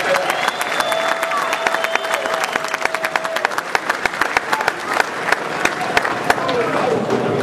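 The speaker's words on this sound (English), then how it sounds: "I just want you to give yourselves a round of applause" A rally audience at a union labor event claps in a dense patter of many hands, moderately near, with a voice and crowd noise mixed in under the clapping.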